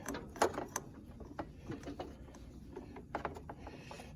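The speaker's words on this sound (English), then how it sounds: "We're going to use the wrench strap to get at to snug that up a bit." A ratchet wrench on a strap snugs a bolt on a John Deere D125 lawn mower, giving faint, close clicks and metallic ticks in short irregular runs with soft handling noise between them.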